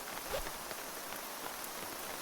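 Steady rain falls in the survival game Terminus: Last Escape, a soft, even patter of drops on surfaces that continues without pause, faint and evenly spread with no voices.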